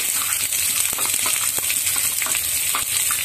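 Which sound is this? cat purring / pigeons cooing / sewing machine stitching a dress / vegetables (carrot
vegetables (carrot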